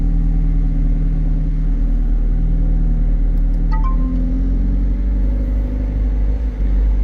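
A tuned 2021 McLaren 765LT sports car with a Ryft exhaust, Inguz and M Engineering tune and Boost Logic parts drives along. Its engine gives a steady, close, low rumble with no speech.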